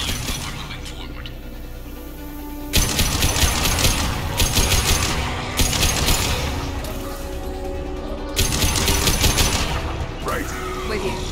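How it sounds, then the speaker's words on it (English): Sustained automatic gunfire in the Mass Effect 2 Legendary Edition video game, loud rapid bursts that start and stop repeatedly over a busy battle soundscape, with voices talking throughout. "We're taking heavy fire while we're moving forward."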